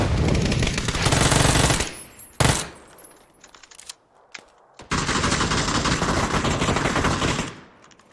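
Gunfire in a shooting video game, loud bursts of rapid automatic fire in two long stretches, separated by a sharp single shot and a few scattered cracks.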